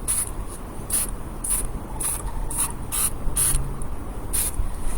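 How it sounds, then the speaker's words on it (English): White spray paint spritzed from a can onto poster board, a series of short sharp hissing bursts, about eight in quick uneven succession, over a steady background. "I'm going to spritz it from far back to try and get some stars"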